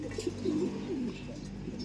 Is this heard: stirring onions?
no